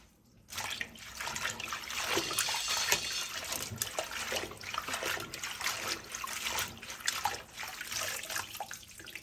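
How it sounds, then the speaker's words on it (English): Tap water runs steadily into a sink while vegan soul mixed greens are rinsed clean of grit, a close, continuous splashing rush with small surges and no talk. "It is very important to wash your greens."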